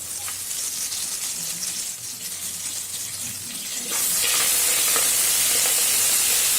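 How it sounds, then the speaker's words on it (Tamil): Black mustard seeds popping in hot oil in a pan as a Nagercoil-style toor dal curry base is tempered with asafoetida and curry leaves, a steady close sizzle that swells louder and brighter partway through, with no talking. "கடுகு நல்லா பொட்டிடுச்சு"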